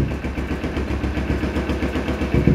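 Kawasaki Ninja 250R with carburetor idling with its exhaust outlet covered, a loud steady pulsing engine throb with rapid, even low knocks and no talking.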